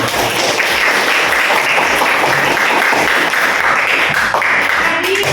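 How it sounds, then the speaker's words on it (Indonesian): Loud, dense applause from a classroom of students cheering the student groups after their presentations, a steady wash of many hands clapping for about five seconds with no break. "tepuk tangan untuk kalian semua."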